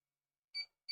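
A vinyl cutter gives two short electronic beeps as media slides in underneath. The tones are clear and close, about a third of a second apart, after a moment of near silence.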